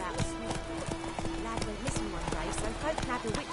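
The horse Roach from The Witcher 3 trots along with a steady clip-clop of hooves and snorts close by, while voices talk over the hoofbeats.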